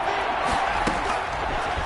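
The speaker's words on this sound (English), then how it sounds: "the crowd getting into it as we come up on a big third down" Steady roar of a football stadium crowd building ahead of a big third down, a dense continuous wash of noise with a brief louder swell near the middle.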